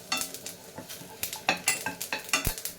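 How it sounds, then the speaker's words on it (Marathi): Sesame seeds roast in oil with browned onion, crackling and popping in quick sharp bursts over a low sizzle, with a spoon scraping the pan close by. "त्याच्यामध्येच मी आता हे तीळ घालते भाजायला ते पटकन भासतात"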